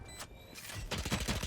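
Rapid bursts of gunshots in a tactical shooter video game, such as Valorant or CS:GO, rattle out in a quick, loud volley after a brief, quieter opening.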